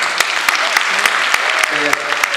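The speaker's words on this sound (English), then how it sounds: "Can we have a round of applause for them?" Applause for the principal and vice principal at an elementary school winter concert: sustained crowd clapping with sharp, evenly spaced claps close by and voices talking underneath.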